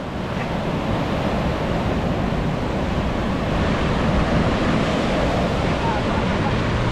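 Strong wind and crashing waves batter the coast of Jamaica during Hurricane Melissa, a constant loud roaring wash of surf and gusting wind noise on the microphone, with voices faintly under it.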